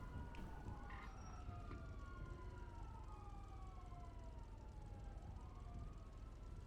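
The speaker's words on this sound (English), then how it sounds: "I hear the sirens." Police sirens wail faintly in a GTA roleplay game world, several overlapping rising and falling tones sounding distant, drifting under a steady background hum without any talk.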